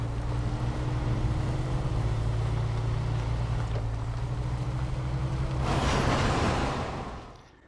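Train running in Train Sim World 2, a steady low engine rumble with a constant hum that holds throughout, joined near the end by a louder broadband rushing swell before it fades.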